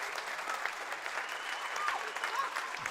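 Applause from an audience at a girls' 10th-grade basketball award ceremony, steady clapping throughout with some voices mixed in.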